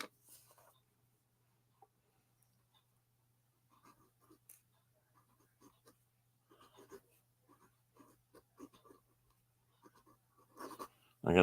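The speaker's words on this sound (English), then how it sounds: "Let me write that down." A pen writes on paper in short, sparse bursts of faint scratching strokes separated by quiet pauses, ending with a louder rustle close by.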